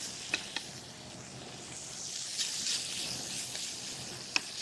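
Beef strips fry in a hot pan for street tacos, giving a continuous close sizzle with a few light clicks and pops scattered through it as the meat is stirred.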